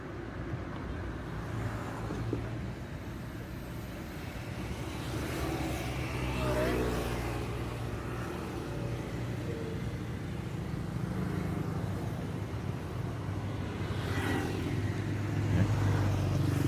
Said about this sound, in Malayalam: ആ അതെ, ബസ് വരുന്നുണ്ട്.